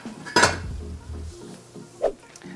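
A metal lid is set down onto a cooking pot of pork binagoongan with one loud clanking clatter, followed by a few quieter clinks and a soft lid tap. A low simmering hum sits underneath.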